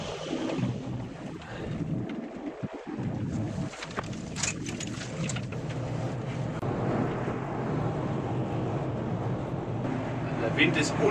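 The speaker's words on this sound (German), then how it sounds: "Der Wind ist unglaublich stark, die Gondel schwankt ziemlich heftig." Strong gusty wind buffets a swaying cable car gondola high in the mountains, a steady roaring rush with microphone buffeting and creaks throughout, loud and continuous.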